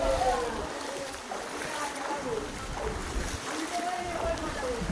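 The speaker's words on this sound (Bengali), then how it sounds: "এই দেখো জল পুরো থই থই" Floodwater sloshing around feet on a waterlogged Kolkata street after heavy rain from Cyclone Remal, a continuous close swishing and splashing with wind rumble on the microphone.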